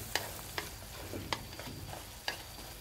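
Tomatoes cooking in a pan, soft simmering sizzle under several sharp spatula clicks and scrapes spaced irregularly across a few seconds.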